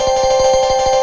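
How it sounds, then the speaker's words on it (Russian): A doorbell in the cartoon video game Do Not Disturb rings in a steady, loud electronic chime with a rapid regular pulse, sounding on its own with no voices. "Каждый звоночек по-другому звенит."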